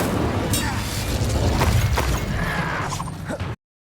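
An Incendio fire spell is cast in the fantasy video game Hogwarts Legacy: a loud, dense whooshing burst of flame with a rumbling low roar and crackling that sustains for about three seconds before cutting off abruptly.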